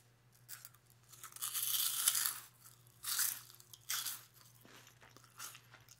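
Crunchy Japanese cheesy poof snack bitten and chewed up close in binaural ASMR style, with several loud crisp crunch bursts separated by quieter pauses over a faint low hum.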